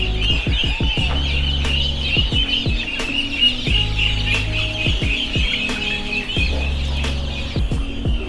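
Chickens cluck and call at a goat and poultry business in Kashmir, a steady layer of fowl chatter over a constant low engine-like hum, with repeated short clucks throughout.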